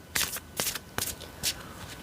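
A deck of oracle cards is shuffled in four or five short, crisp riffling bursts spaced about half a second apart, close up and alone.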